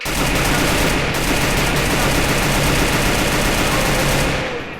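Dense, continuous gunfire in the video game Free Fire, with rapid automatic bursts blending into a steady loud roar, with no voices.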